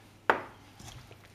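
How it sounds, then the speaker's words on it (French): A single sharp crack as an egg is struck against a bowl while making choux pastry, one close, bright tap that fades quickly into quiet kitchen sounds. "Et le dernier œuf. Tac."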